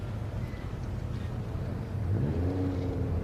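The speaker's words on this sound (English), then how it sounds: "as the cars make their way into assembly" Racing cars at an MGCC Cockshoot Cup meeting roll into the assembly area, a steady low engine drone with a rising pitch sweep near the end as one car revs, mixed with wind noise.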